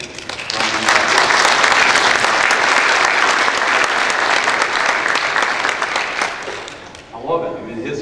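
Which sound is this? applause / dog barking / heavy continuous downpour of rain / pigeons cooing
applause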